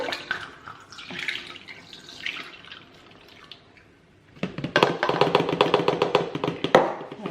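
Water from a glass is poured through a funnel while homemade laundry detergent is made, first as soft trickling and dripping, then as a louder, steady splashing pour near the end.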